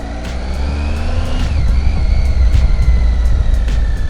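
A Triumph Tiger 800 XCA triple motorcycle being ridden on gravel, its loud, close engine rumbling steadily with rising and falling revs and the crunch of the tyres over loose stones.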